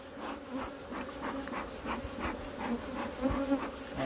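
Honeybees swarm and buzz steadily around an aggressive hive, a dense, continuous droning hum with individual insects flitting close by, with no voices.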